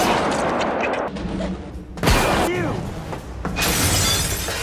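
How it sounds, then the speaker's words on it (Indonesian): A film scene carries a sharp gunshot crack among loud shattering and impact noises, with someone speaking over the action. "Jackie pun maut ditembak oleh si manajer"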